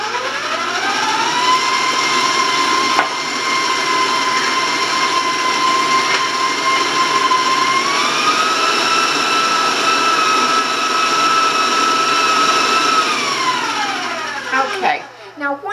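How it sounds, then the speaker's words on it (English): Electric mixer beating eggs and water, a loud, whining motor hum that shifts up in pitch partway through, holds, then winds down and stops near the end. "Now I'm going to warn you about the sound on my mixer."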